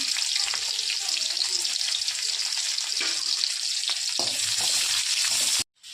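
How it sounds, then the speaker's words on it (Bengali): Onions fry in hot oil in a wok for a cauliflower curry, giving a bright, steady close-up sizzle with occasional stirring bumps, cutting off abruptly near the end. "এখন আগে পেঁয়াজটা দিয়ে দেবো, পেঁয়াজটা একটু ভেজে নেবো।"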